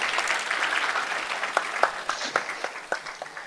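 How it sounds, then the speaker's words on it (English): An audience applauds to welcome a speaker at a meeting on payment systems, a short round of dense clapping that thins into scattered individual claps. "Let's give him a round of applause as we welcome him."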